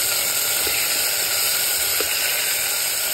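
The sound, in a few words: vegetables frying and being stirred in a pan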